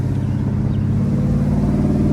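A 1972 Oldsmobile Cutlass engine runs steadily with the top down, a loud, close, deep rumble holding an even drone without talk.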